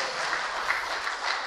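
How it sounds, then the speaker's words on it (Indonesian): Congregation clapping together in a Pentecostal church service, a dense, even wash of applause heard from a slight distance, steady and unbroken. "Beri tepuk tangan buat Tuhan kita."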